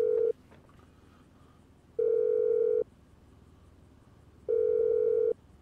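In Grand Theft Auto V, a phone call produces a steady electronic tone that sounds in evenly spaced bursts, about three times, each lasting under a second, with quiet gaps between.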